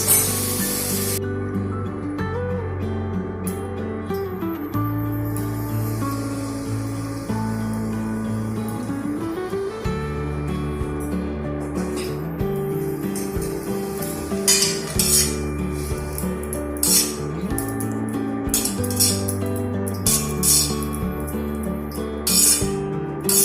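Veg Hakka noodles stir-fried Kolkata street style in a pan over high heat after salt goes in, giving a steady sizzle with repeated metallic clinks and scrapes of tossing, close and loud, over continuous background music.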